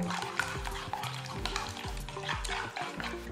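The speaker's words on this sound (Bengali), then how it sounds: "এবারে এটা ভালো করে মিক্স করে নিতে হবে।" Spinach being mixed with two eggs, salt and cumin powder in a bowl, producing continuous wet squelching and scraping strokes, close and quiet, with faint background hum.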